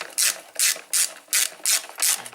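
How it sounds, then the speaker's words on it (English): A torque wrench ratchets in six evenly spaced, loud clicking strokes while tightening the brake caliper bolts on a Honda SH300i scooter, close by with no voices. "Get your torque spanner, find the correct setting, torque them up correct."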